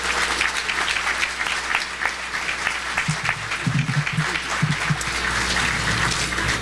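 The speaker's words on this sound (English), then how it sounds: "Let's give these guys a big round of applause for being here today." Conference audience applauding steadily at a ports industry event, a dense, sustained wash of clapping throughout with a few brief low voices or cheers poking through midway.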